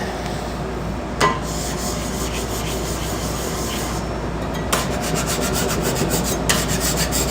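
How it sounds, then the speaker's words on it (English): A metal scraper rasps steadily across a restaurant cooking surface, clearing off residue in a continuous gritty scrape. Three sharper strokes stand out near the start, middle and end against a constant kitchen hum. "Let me scrape this off real quick."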